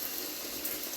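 Shower water running steadily in a home bathroom, a dense, even hiss of spray that fills the whole second without pause or change, close and fairly loud with no voices.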